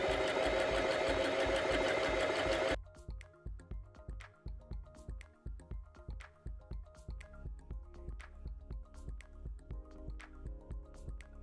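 A sewing machine stitches children's sweatshirt fleece for a winter pajama. After a brief burst of broad noise, it runs in steady, rapid, evenly spaced stitching pulses, close and clear, with no talking.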